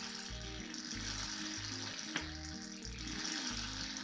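Gassy oil drains from the sump of a hydro-locked estate car engine with a steady bubbling, sputtering gurgle that pulses in a regular rhythm, close up and fairly quiet, without speech.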